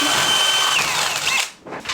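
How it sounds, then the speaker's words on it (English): A power drill bores holes through fittings aboard a salvaged wreck being converted into a liveaboard boat. The close, loud whine runs steadily, then cuts off and gives a couple of short bursts. "All this work, and they just come here and drill holes through everything."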